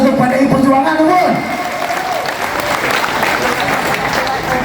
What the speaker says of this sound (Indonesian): tepuk tangan untuk PDI Perjuangan teman